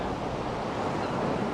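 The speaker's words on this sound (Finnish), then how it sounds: "Hirveitä aaltoja." Big ocean waves crash and rush in a continuous, loud roar of surf mixed with wind buffeting, steady and close, with no voices.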